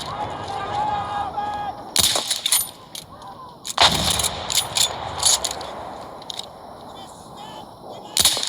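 Gunfire in a shooting video game, sharp bursts of shots and cracks in quick clusters with quieter gaps between, mechanical clicks mixed in, no talking over it.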